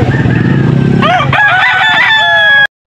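Young gamecock stag of mixed bloodline at a pet market in Angeles, Pampanga, crowing once loudly and close in a long wavering call after a burst of clucking, with no one speaking.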